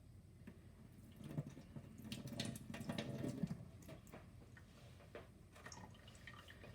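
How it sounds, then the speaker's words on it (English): Tap water runs while gooey fingers are rinsed at a kitchen sink during hush puppy preparation, a faint, close splashing and trickling that swells in the middle and then fades. "Yeah, rinse my fingers because they're a bit gooey."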